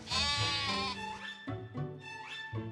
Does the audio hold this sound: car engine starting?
no